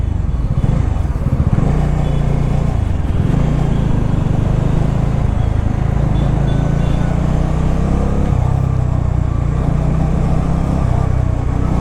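Motorcycle riding through Guwahati city traffic at night, a steady close engine drone with wind rush running the whole time, no talk.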